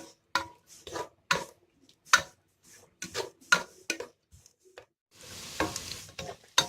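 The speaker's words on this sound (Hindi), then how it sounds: "प्याज को हम लाइट ब्राउन कर लेंगे।" Onions sizzle in hot oil as a spoon scrapes and taps the pan in quick repeated strokes, close up.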